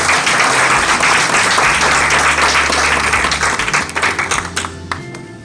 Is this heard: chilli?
no